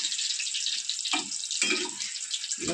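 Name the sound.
sweet potato chips frying in oil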